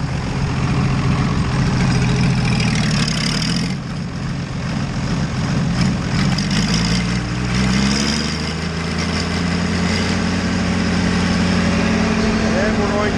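A warmed-up Super 88 tractor engine runs steadily, rising in pitch as it spins up a feed grinder on a farm, a continuous loud mechanical drone throughout with a voice talking over it.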